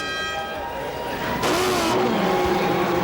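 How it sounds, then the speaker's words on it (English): A field of 24 A1 Grand Prix V8 race cars fires up at the start of a race, a dense, loud mass of engine noise whose revs climb and surge partway through. "24 A1 Grand Prix V8 engines are fired up"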